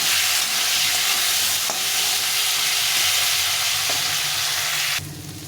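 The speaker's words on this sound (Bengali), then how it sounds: "এখন আমি এই তেলে আমি বেগুনটা ভেজে নেবো" Salted, turmeric-coated eggplant pieces fry in a little oil with a loud, continuous sizzle and crackle close up, then drop abruptly in level near the end.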